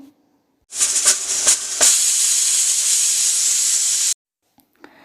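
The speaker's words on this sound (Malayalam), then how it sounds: "അപ്പോഴേക്കും നമ്മുടെ കുക്കറിൻ്റെ വിസിലൊക്കെ വന്നിട്ടുണ്ടാവും" A pressure cooker whistle lets off a loud, steady hiss of escaping steam for about three and a half seconds, starting abruptly and stopping sharply, while cooking Malabar-style chakkara choru, a sweet rice dish.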